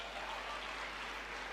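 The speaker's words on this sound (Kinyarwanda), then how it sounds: "Mumukomera amashyi wazutse." A church congregation claps together for a preacher's sermon. The applause is a steady, even wash of many hands, faint and distant, with no break and no talk over it.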